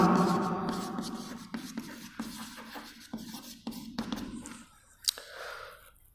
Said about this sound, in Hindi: पहले मैं क्वेश्चंस लिख देता हूं